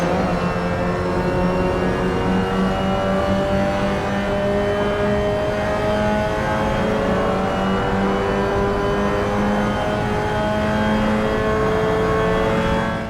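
A race car engine in the Assetto Corsa racing game holds a sustained high drone, its pitch climbing steadily and dropping back as gears change, loud and continuous throughout.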